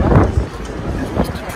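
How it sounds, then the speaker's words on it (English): Gusty wind buffets the microphone outdoors near Kronborg in Copenhagen, rumbling in short bursts of varying strength over about a second and a half. "It's windy, but nice weather."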